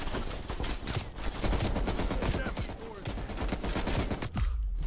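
Dense gunfire in Call of Duty: Black Ops Cold War during a rooftop compound assault, with rapid overlapping automatic bursts and shots continuing nearly unbroken and loud, close and far.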